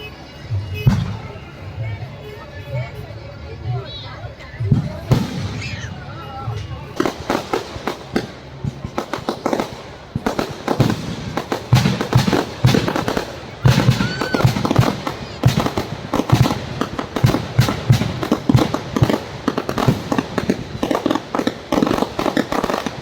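Fireworks and firecrackers go off at a village fair, starting with scattered bangs and building into a dense run of sharp cracks and pops, with people talking and crowd noise throughout.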